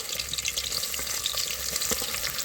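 Chopped onions fry in hot oil with a steady, close, crackling sizzle that runs throughout, with no voices.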